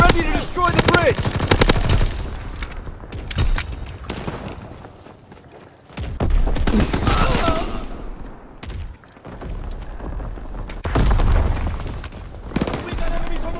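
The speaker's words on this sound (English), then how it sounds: "Give suppressing fire!" Dense bursts of rapid gunfire in Call of Duty WWII multiplayer, loud automatic rattles and shots in repeated waves with short lulls between them.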